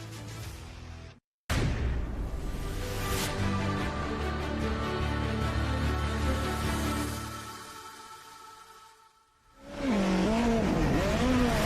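Race cars roar past at Lime Rock Park's Memorial Day Classic, a loud sustained engine drone that cuts off abruptly, returns, fades away, then surges back with a wavering revving pitch, heard close with no talking.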